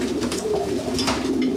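Racing pigeons in a loft coo steadily in a low, continuous murmur close by, with no voices over it.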